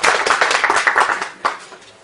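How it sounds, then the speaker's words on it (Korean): An audience claps at a year-end internet community event, with a burst of dense applause that thins out and fades, ending with a few scattered claps. "다음 박수 한번 칠까요?"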